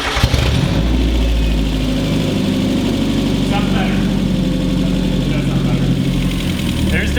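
A Miata-engine-swapped Datsun roadster idles steadily and loudly up close, a faint rapid lifter tick riding over the low rumble throughout.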